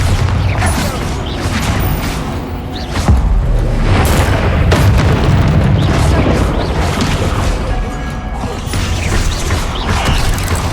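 A Bombarda spell goes off during a spider fight in the video game Hogwarts Legacy, with loud booms and crashing debris amid dense, continuous battle noise, mechanical creaks and clatter.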